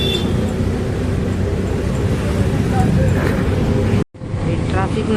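An auto rickshaw ride through city traffic: steady engine drone and road rumble with passing vehicles and occasional horn-like tones, a brief dropout near the end, and someone talking over the ride.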